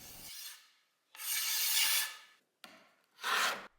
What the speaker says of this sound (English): I'll lay my scraper on a bench and use the file to remove what's left of the old burr